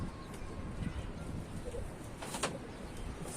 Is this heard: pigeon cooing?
yes